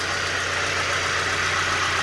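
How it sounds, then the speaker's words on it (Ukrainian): The 1.6-litre petrol engine of a 2004 Audi A4 B6 idles evenly at close range, a constant mechanical drone with no revving and no voices. "зараз двигунчик покаже. Ось дивіться."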